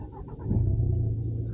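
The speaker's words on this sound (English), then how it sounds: "It's such a quiet start." An Audi TT engine starts up softly and settles into a low, steady idle rumble, heard close and fairly quiet with no talking.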